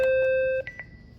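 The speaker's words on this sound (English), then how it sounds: "The doorbell rings." A door intercom doorbell gives one sustained electronic tone, then two short chime notes, clear and close, followed by quiet.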